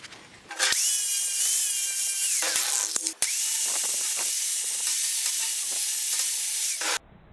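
An angle grinder bevels the edges of a notched metal tube with a loud, sustained high-pitched whine that briefly drops once and then cuts off abruptly at the end.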